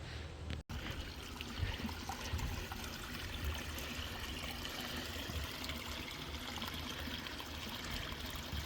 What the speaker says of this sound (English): Sometimes it's nice just to listen to the sounds of nature in this case. The water, plants, birds